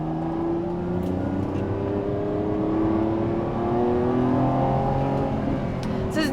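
A Lamborghini Revuelto's engine drones loud and steady while accelerating, heard from inside the car, with rising harmonic tones and a constant road rumble underneath.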